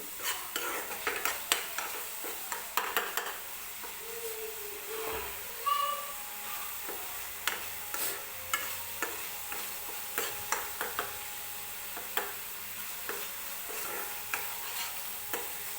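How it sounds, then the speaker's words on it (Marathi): Onion and tomato fry in oil for a chicken gravy, a soft steady sizzle under regular clinks and scrapes of a spoon stirring against the pan, fairly quiet and close. "बाजूला तेल सुटायला लागलं की समजायचं की कांदा आणि टोमॅटो व्यवस्थित भाजलेला आहे त्यामुळं व्यवस्थित भाजून घ्यायचं आहे"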